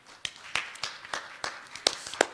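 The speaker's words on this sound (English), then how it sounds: "A very big hand of applause to Ms." Sparse, scattered hand claps ring out in a conference hall, a handful of separate claps rather than full applause, fairly close and moderately loud.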